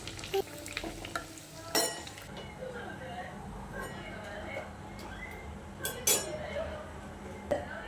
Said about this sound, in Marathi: तेल गरम झालं आहे आणि पहिले तीन वडे बनून तयार आहे आणि हेच मी आता टाकणार आहे ते तळायला